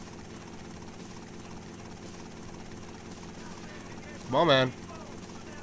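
A helicopter in the video game Vice City Stories drones with a steady rotor hum throughout, and someone speaks briefly over it near the end.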